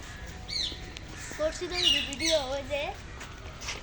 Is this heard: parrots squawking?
yes